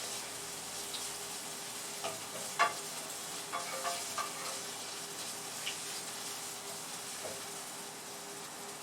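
Cherry tomatoes sizzle faintly in oil in a pan, a quiet steady hiss with a few soft clicks and clatters of stirring, no voices.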